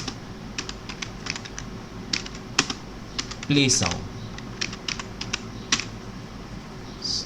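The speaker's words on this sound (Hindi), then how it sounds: "टर्मिनल में लिखूँगा पिप इंस्टॉल" Computer keyboard typing a pip install command into a terminal: a run of crisp, close key clicks in an uneven rhythm, with a brief spoken phrase partway through.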